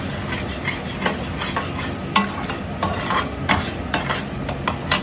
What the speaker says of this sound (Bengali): মশলাটা কষুক